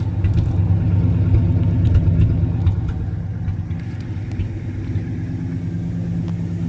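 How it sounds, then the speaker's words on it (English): A 1958 Imperial's big Hemi V8 idles steadily nearby, a smooth, even low rumble that holds at a constant level with no voices over it. "Listen to that big Hemi."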